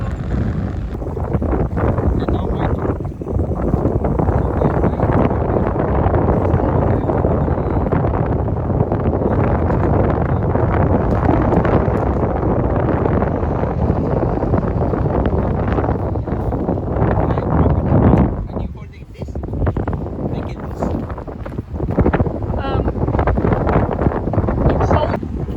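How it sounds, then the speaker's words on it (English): Strong wind buffets a small fishing boat on the open ocean, a loud continuous roar of gusts across the microphone that dips briefly before surging again, with people talking under it. "It's so windy."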